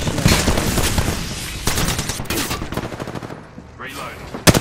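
Rapid gunfire in a video game shootout, with dense bursts of automatic shots and loud cracks in quick succession, close and intense, easing briefly before more shots near the end.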